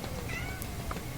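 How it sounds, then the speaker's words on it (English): A household cat meows once during an interview recording, a short mid-pitched call heard faintly over a steady background hiss. "That's our cat meowing on your tape,"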